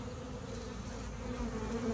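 Honey bees drone steadily at an open beehive during a two-week inspection, a dense, continuous buzz close by that swells slightly toward the end, with no voices.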